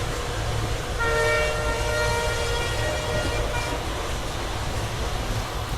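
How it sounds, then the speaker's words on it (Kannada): A train on the Kushtagi–Hubli main line runs at about 90 km/h with a loud, continuous rumble and rattle, and a sustained horn tone sounds over the noise. "ಮೇನ್ ಲೈನಲ್ಲಿ ಬಂದಿದ್ದ ತಕ್ಷಣ ಇಲ್ಲಿ ನೋಡಿ ಸ್ಪೀಡು 90ಗೆ ರೀಚ್ ಆಗ್ತಿದೆ"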